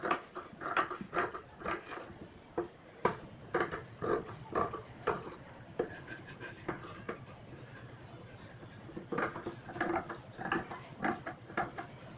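Scissors snipping through blouse fabric on a tabletop: a string of crisp, quiet cuts in uneven bursts, a pause in the middle, then more quick snips, close by.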